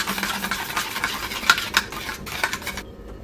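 Tomato and onion get stirred in a pan for an omelette curry, with a spoon scraping and clinking against the metal over a light sizzle in quick irregular strokes before it drops to near silence.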